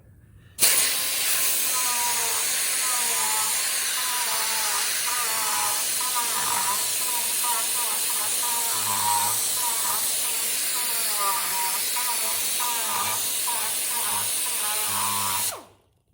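Pneumatic air grinder carving into wood, a loud, steady high-pitched whine with hissing air running continuously for about fifteen seconds, close up, with faint varying tones as the bit bites the wood.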